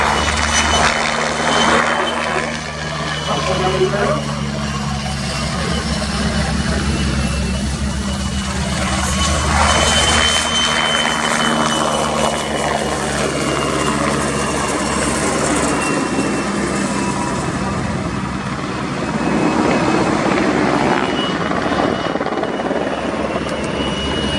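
A pair of Czech Air Force PZL-Swidnik W3A Sokol helicopters fly a display at an air show, their loud rotor thump and turbine whine swelling and fading continuously.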